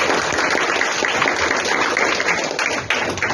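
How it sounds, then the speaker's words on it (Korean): A room full of people claps steadily, a dense patter of applause that holds for a few seconds before tapering slightly. "박수 한번 주세요"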